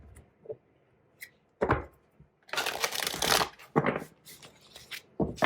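Tarot cards are shuffled in several bursts, crisp riffling and flapping rustles separated by short pauses, close and fairly loud with no voice.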